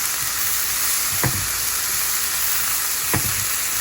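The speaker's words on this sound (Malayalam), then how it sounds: "ഇത് 2 മിനിറ്റ് ഒന്ന് വഴറ്റിയെടുത്താൽ മതി" Green peas egg masala with garam masala being sautéed in a pan: a steady broadband sizzle throughout, with two brief scraping stirs of a spoon against the pan, no voices.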